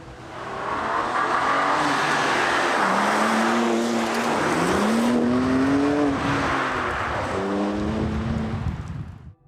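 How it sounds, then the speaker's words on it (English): A 2024 BMW M2 G87 is driven hard on a twisty mountain road, its engine note rising and falling through repeated revs and gear changes, loud and close, with faint tire noise between pulls. "I'm going to take the new M2, the G87, for a drive on a twisty mountain road"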